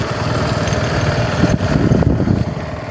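Small motor vehicle engine running steadily nearby in a hilly rural village area, a continuous buzzing drone with slight revving toward the end.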